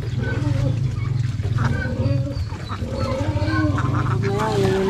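Turkeys and ducks quack, gobble and call in a noisy cluster, with a person talking close by over the squawking.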